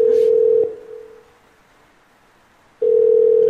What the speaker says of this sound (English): Phone noises.